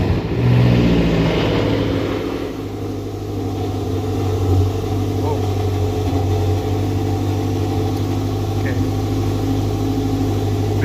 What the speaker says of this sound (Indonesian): tinggal masukin kunci ke slot sini dan kita injek rem serta tekan start stop engine